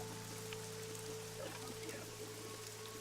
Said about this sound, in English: This rain is awful, huh?